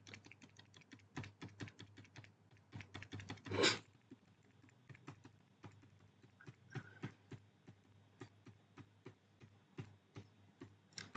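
Computer keyboard keys click in quick, uneven bursts as switch configuration commands are typed, with one louder clatter partway through, close and clear with no voices.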